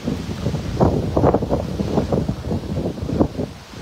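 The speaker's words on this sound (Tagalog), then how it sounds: "medyo talaga yung hangin malakas" Strong wind buffets the microphone outdoors near a hotel on a street, a continuous rough low rumble with gusting surges throughout and no voices.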